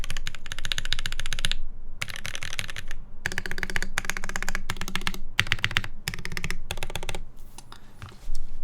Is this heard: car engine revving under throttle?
no